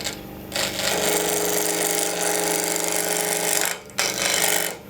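Wood lathe tool cutting a maple hollow vessel, a steady loud rough scraping drone with a low rumble and a bumpy texture, broken by a brief dip near the end before resuming.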